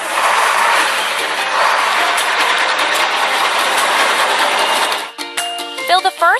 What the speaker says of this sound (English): Cement mixer. Press the pump.